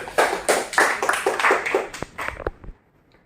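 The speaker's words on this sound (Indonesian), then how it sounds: "Dari seluruh Himo, tepuk tangan." Clapping from a small group at a gathering, a loose burst of separate hand claps a few seconds long that trails off into silence, with no talking.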